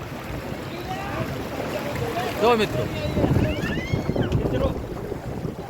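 Water from two opened gates of the Mokeshwar dam rushes down the Saraswati river in a steady, heavy broadband roar, with wind buffeting the microphone as someone speaks briefly over it.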